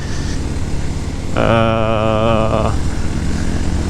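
Motorcycle engine climbing a steep uphill road at Mount Bromo, ridden with a side-to-side weave, revs up into a loud, strained whine with a rising harmonic tone for about a second and a half, set against steady engine and wind noise.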